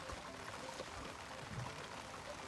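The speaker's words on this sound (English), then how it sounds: "it is pouring rain" Heavy rain pours on a fishing boat cruising Ha Long Bay in Vietnam, a faint, steady wash of hiss and splatter with no break for the whole short stretch.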